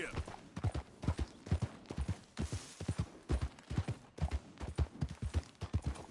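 Horse hooves galloping in Red Dead Redemption 2, a fast, rhythmic clip-clop of repeated beats with a brief pause midway, close and fairly quiet, with faint background game sound.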